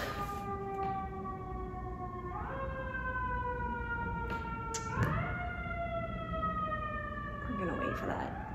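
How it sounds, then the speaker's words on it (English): An emergency siren passes outside, its wailing tone sweeping up and down repeatedly at a moderate distance over a steady background hum, with faint talk underneath. "we're gonna wait for that to pass. All right, the siren is gone."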